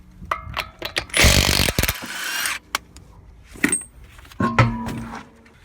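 Milwaukee mid-torque impact wrench working a crank bolt on a 2000 Honda V6, giving loud bursts of rattling hammering, one long run and several shorter ones, separated by clanks and quiet gaps.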